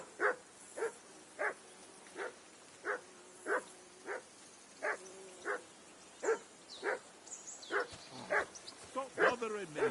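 A dog in the medieval game Kingdom Come: Deliverance 2 gives a steady run of evenly spaced barks at moderate distance, then a quicker flurry near the end, with voices speaking over the final barks.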